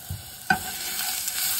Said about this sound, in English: And you're gonna wanna saute that